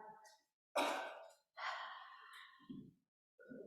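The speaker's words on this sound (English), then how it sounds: "Let's all take a big deep breath." Deep breaths drawn in and let out during a guided meditation session: several slow, close breathy inhales and sighing exhales with short pauses between, heard alone without talk.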